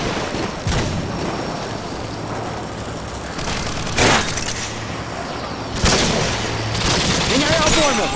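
Gunfire in Modern Warfare 2 multiplayer, a few sharp bursts and booms standing out over a dense rumbling game backdrop, with a player talking over it.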